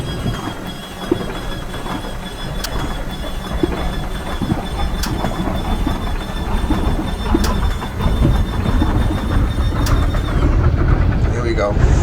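The T-28C's radial engine starter cranks under heavy overpriming in X-Plane 12, a loud, steady grinding and rumbling drone with faint periodic clicks, running continuously without a clear catch.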